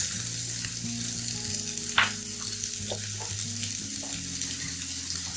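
Ginger and green chillies frying in a pan, with finely chopped carrot and capsicum added for a veg pizza puff filling; a steady close sizzle runs throughout, broken by a few sharper stirring scrapes.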